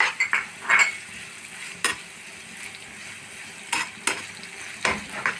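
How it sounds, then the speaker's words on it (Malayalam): Sliced onions and cashew nuts fry in hot oil in a pan, giving a steady sizzle broken by several sharp scrapes and clinks as a spoon stirs against the metal. "നമ്മൾ വെച്ച സവാളയും അതുപോലെ അണ്ടിപ്പരിപ്പും നേരിയതായിട്ട് ഒന്ന് ഫ്രൈ ആയിട്ടുണ്ട്"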